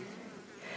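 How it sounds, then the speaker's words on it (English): A faint, steady buzz of a swarm of bees droning together, soft and continuous for a brief moment, with no talking. "we're just going to shake the bees into this box"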